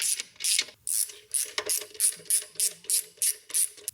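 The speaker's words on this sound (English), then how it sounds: "today we're using our Also Tools 3/8 flex head ratchet and extension with a wobble" An Also Tools 3/8 flex head ratchet on a wobble extension tightens intake clamps during a Pusher intake install on a 2022 Ford 6.7. About ten crisp, rhythmic bursts of clicking sound up close, with no talking.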